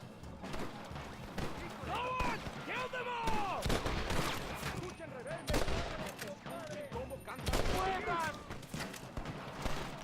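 Sporadic gunshots crack in a Red Dead Redemption shootout, mixed with other game sounds, while a voice talks over much of the action.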